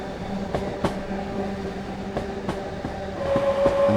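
Train running in Train Sim World 5, a steady rumbling roll with periodic clacks over the rails and a tonal whine rising near the end, with no voices.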